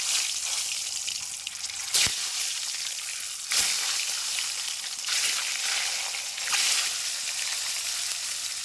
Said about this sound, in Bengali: তেল গরম হয়ে গেছে এবার ভেজে নেবো ডিমগুলোকে